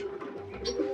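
Pigeons in a loft during the monsoon season, heard as a short, faint low coo over soft background murmur with no talk.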